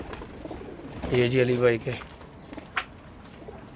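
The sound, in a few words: pigeons cooing, a caught dabaz pigeon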